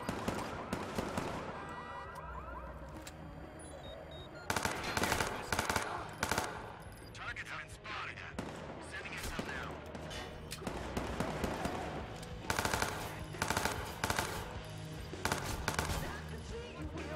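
Rapid automatic gunfire in the video game Watch Dogs 2, dense bursts of shots over a continuous wail of sirens and engine noise during a chase, loud and layered with game sound effects.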